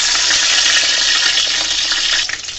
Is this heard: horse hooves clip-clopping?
no